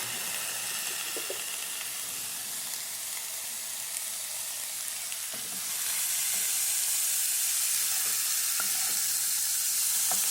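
Chopped cauliflower with salt sizzling in a pan for a Kerala-style masala thoran, with faint stirring scrapes; the frying hiss grows louder and brighter partway through, and no voices are heard.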